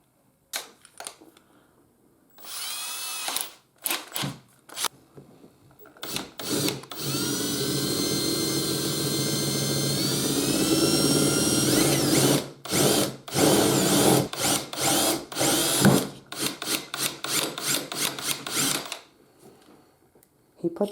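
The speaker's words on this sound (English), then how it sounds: "Instead of just drilling right down." A power drill whirs in short bursts, then runs steadily for several seconds before more stop-start pulses, close by and fairly loud.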